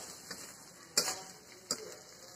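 Pumpkin greens frying in a pan on a wood stove, a soft steady sizzle broken by a few sharp scrapes of stirring, close and fairly quiet.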